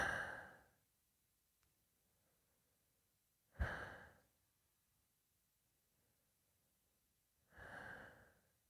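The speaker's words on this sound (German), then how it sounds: "Bhujangi Mudra durch den weit geöffneten Mund atmen" Slow, deep breaths through a wide open mouth during the Bhujangi Mudra yoga exercise, three separate airy exhalations spaced a few seconds apart with near silence between, close to the listener.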